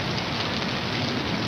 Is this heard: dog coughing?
no